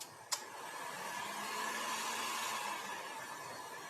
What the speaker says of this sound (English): let me dry once. I'm drying this texture paste.